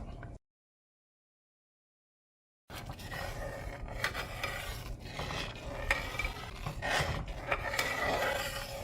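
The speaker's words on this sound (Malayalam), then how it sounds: "തലപ്പാലല്ല 1-ാം പാൽ കട്ടിപ്പാൽ ഒഴിക്കുകയാണ്." Thick first-press coconut milk is poured into jackfruit payasam and stirred, a brief sound cut into near silence, then steady close scraping and swirling of a ladle in a heavy pot.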